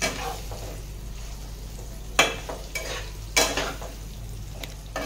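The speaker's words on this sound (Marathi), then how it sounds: "आता हे पुन्हा मिक्स करून घेऊया." Spoon stirring brinjal (eggplant) curry in a pan, with a soft sizzle underneath and a few sharper scraping strokes against the metal spaced a second or so apart, close and moderately loud.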